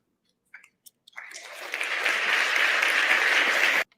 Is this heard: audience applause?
yes